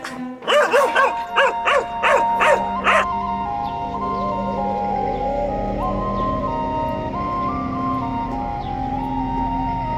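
Local street dogs in Korea bark about half a dozen times in a quick, loud, close burst, then fall silent as a steady low outdoor hum carries on.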